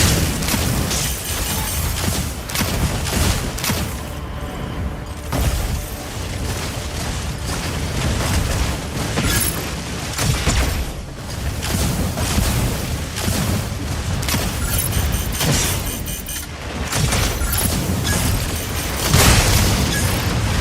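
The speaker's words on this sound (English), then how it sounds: "Inferno, about to lay down the barrage" Dense barrage of explosions from a mech's missile salvo in the video game Mecha Break, rapid booms and blasts piling up continuously at loud volume, with brief dips between volleys.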